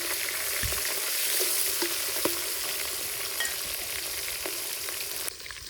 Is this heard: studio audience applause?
no